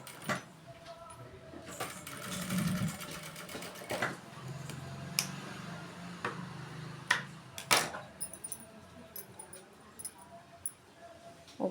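A sewing machine stitches folded-over blouse fabric, its whir running in short bursts with scattered clicks and taps, close and moderately loud.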